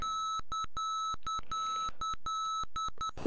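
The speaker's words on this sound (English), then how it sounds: "that beeping is a navigation marker beacon." Navigation marker beacon in the Flight Simulator 5 video game gives a loud, steady run of rapid electronic tone beeps with short gaps, clean and synthetic, continuing without talk.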